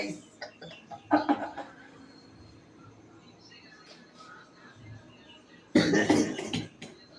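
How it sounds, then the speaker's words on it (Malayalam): Coughing from a person eating very spicy food during a family cooking challenge, with two rough bursts, one early and a louder one near the end, over quiet room noise. "ചുമയാണല്ലോ"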